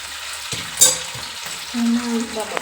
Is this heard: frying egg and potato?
yes